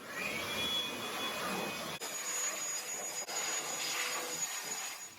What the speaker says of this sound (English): we'll blow some air over the engine bay so that if there is any dust left,